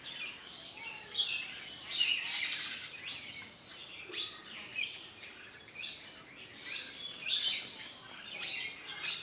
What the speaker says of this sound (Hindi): देखो बुलबुल और बहुत सारे चिड़िया सुबह सुबह नहाने के लिए आ गए हैं।